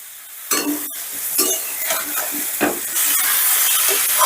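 Eggplant pieces frying in hot oil, a steady sizzle with bursts of crackle and a few stirring scrapes against the pan, close and fairly loud.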